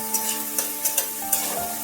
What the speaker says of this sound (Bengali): বিনস আর গাজর 3-4 মিনিট নেড়ে 2-1 মিনিট ভাজার পর আমি ক্যাপসিকামগুলো এর মধ্যে দিয়ে দিচ্ছি